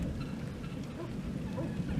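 Light rain sprinkling outdoors on a driveway, a steady soft wash of patter with low rumble underneath, continuous and fairly quiet with no voices.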